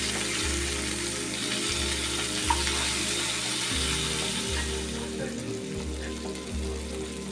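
Prawns fry in a pan with a steady sizzle over a low rhythmic mechanical hum, moderately quiet and continuous, with no talk.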